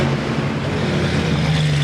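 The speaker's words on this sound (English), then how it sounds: "He gave a little rev there for fun." A 707-horsepower Hellcat-powered Jeep idles with a deep, steady engine drone that rises slightly in a short rev, close and loud.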